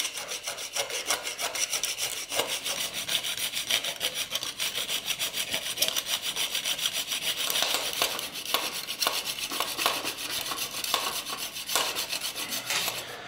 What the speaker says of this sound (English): And I'm basically using like a hacksaw like this.